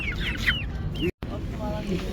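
Roosters and chickens clucking and calling nearby, with a brief crow-like cry, amid a noisy outdoor poultry market in Kyzylorda and people talking in the background.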